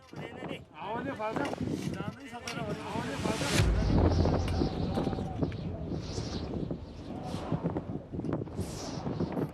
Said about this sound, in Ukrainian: вітер посилюється